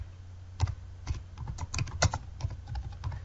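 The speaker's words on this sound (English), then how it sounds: "and then I type my comment" Keys tapped on a computer keyboard while a short comment is typed, a brisk, uneven patter of close clicks with no voices.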